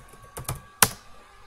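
A computer keyboard clicks close by in a quiet room. Two soft keystrokes come first, then one sharper, louder key press, with no talk.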